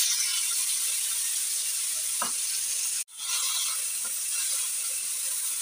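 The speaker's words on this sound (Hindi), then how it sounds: "इसको यहाँ हम थोड़ा सा फ्राई कर लेंगे ताकि इसमें मज़ेदार सा टेस्ट आ जाए" Red lobia beans fry in about a tablespoon of cooking oil, giving a steady, close sizzling hiss with a few light scrapes and a brief cut-out partway through.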